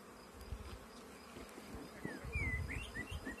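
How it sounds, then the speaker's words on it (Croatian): Honey bees buzz steadily as they cap honey inside an open hive, a close, soft, continuous drone. A few faint bird chirps sound in the background. "Evo znači pčele ovdje zatvaraju med."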